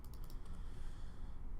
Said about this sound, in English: Use my keyboard shortcuts to save.